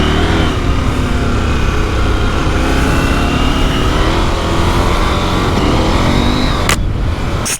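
A 2023 KTM 890 Adventure motorcycle engine runs loud and close under sustained throttle, a rough continuous roar with wind rush, ending in a brief sharp knock.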